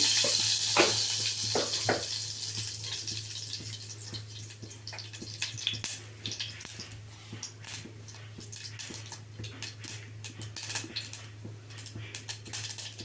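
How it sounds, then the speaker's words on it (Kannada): Quiet, steady sizzling of mustard seeds in hot oil, scattered with small crackles and pops over a faint background hum. "ಇವಾಗ ಎಣ್ಣೆ ಕಾದಿದೆ ಸಾಸಿವೆ ಒಗ್ಗರಣೆ ಹಾಕ್ತಾ ಇದ್ದೀನಿ"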